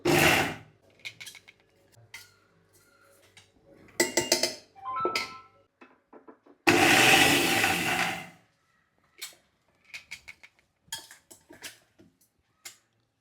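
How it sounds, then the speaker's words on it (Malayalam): A kitchen mixer grinder whirs in short pulsed bursts while grinding drumstick leaf chutney, with one longer loud run and intermittent clatter of the jar and utensils between pulses. "ഒരുപാട് അങ്ങ് അരയ്ക്കരുത് നിർത്തി നിർത്തി ചെറുതായിട്ട് കറക്കി കറക്കി എടുക്കാം"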